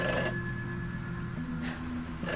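A telephone rings in a quiet room, a few short bursts spaced about a second apart with a faint hum between them and no voices.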